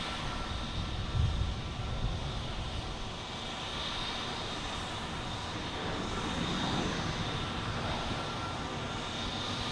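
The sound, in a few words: United Airlines airliner landing, arriving from Newark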